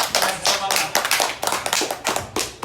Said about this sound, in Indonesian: Coba kasih tepuk tangan dulu.